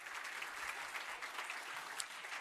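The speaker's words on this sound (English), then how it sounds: "Thank you, with a big applause to the panel." An audience applauds a panel at a live event, with steady, continuous clapping from many hands that sounds faint and distant throughout the short stretch.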